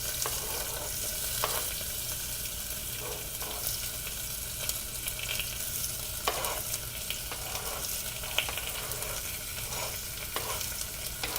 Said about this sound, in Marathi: हा कापलेला मी कांदा टाकला आणि जरासं असं ढवळून घेतलं